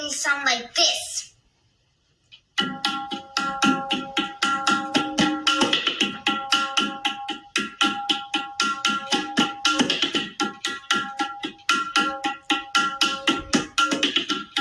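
A brief voice opens, then after a short pause a tabla plays the Dintal rhythm with quick, dense strokes in a fast repeating cycle, bright and close.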